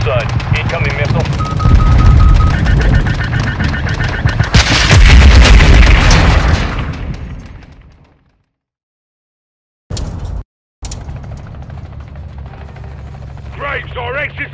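Missile explosions and heavy gunfire from Call of Duty Modern Warfare II, loud dense blasts and rattling shots for about eight seconds, then a sudden cut to near silence, a brief burst, and quieter battle ambience with radio-style voices.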